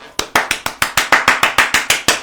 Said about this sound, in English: You're supposed to clap your hands.